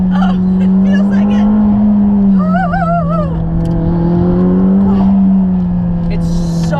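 A McLaren sports car runs on launch control, heard from inside as a steady, loud engine drone beneath excited voices and a wavering vocal exclamation.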